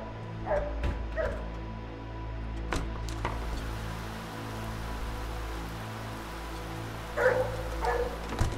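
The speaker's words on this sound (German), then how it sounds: "Also einen Hund sehe ich auf jeden Fall nicht da draußen." Dog barks from The Nightfall video game, a few short yips scattered over a steady low rain-like background hum, faint and distant-sounding with no talking.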